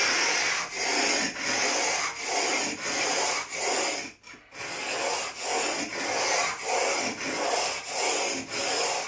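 A hand plane iron shot to a 30-degree single bevel is pushed back and forth in a honing guide along a long strip of 120 grit abrasive, giving steady rhythmic scraping strokes with one brief pause midway.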